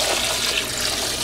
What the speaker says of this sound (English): in there, I'm going to start with about 4 cups of water